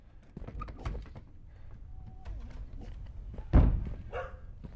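Knocking on a door in the horror video game Something In The Well, with a few dull thuds, one louder knock standing out near the end, set against quiet game ambience.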